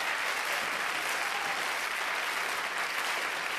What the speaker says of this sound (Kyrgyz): Баракелде, кол чабуулар сизге азаматсыз.